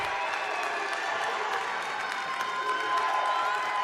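A small crowd of family members in a gym at a high school boys' basketball game keeps up a steady, echoing roar of cheering and clapping, sounding fuller than its size.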